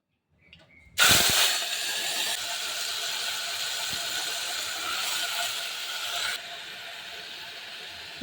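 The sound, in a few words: sprouted horse gram added to hot oil in cooker, sizzling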